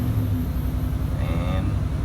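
A 2008-2015 Nissan Titan pickup's engine runs at a steady idle up close, a low, even, rhythmic rumble that continues throughout.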